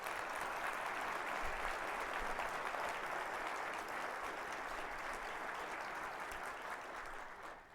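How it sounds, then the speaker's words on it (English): Full, sustained audience applause at a city's State of the City address in Livonia, dense and even throughout before tapering slightly at the end. "I do think it deserves a round of applause now."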